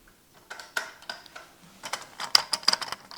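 Rattling pressure gauge on a La Pavoni Europiccola Pro lever espresso machine in poor condition, a series of light metallic ticks and clatters, sparse at first and then quicker and louder, close up with no talk.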